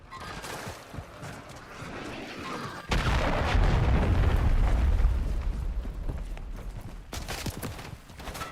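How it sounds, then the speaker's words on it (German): Explosions go off in Call of Duty: Modern Warfare 3 gameplay, a sudden heavy blast rolling into a deep, sustained rumble for several seconds, then fading under lighter game noise and scattered cracks. "da drin ist jetzt gerade nur noch alles explodiert oder was?"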